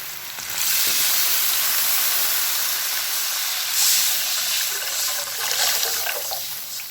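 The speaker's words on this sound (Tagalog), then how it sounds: "Pag nagisa nyo na ng maayos, maigi, ihulog nyo ngayon yung hugas bigas" Rice washing water poured into a pan of sautéed ginger and white onion for pesang pampano, a steady close hissing sizzle with brief surges as the liquid hits the hot pan.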